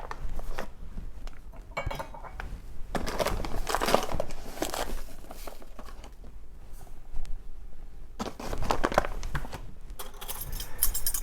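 Granulated sugar poured and shaken into a pan to start a caramel for a citrus dessert, heard as gritty crinkling, rattling bursts that come and go in several close, moderately loud spells with no talk.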